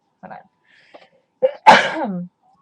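A few short breathy intakes build up, then one loud, sharp sneeze bursts out close by and trails off.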